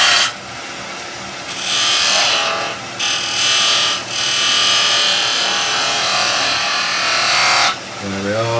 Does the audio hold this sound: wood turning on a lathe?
yes